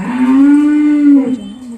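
A cow moos once, a loud, close, sustained low call lasting over a second and then trailing off, during a Diwali cow-worship ritual.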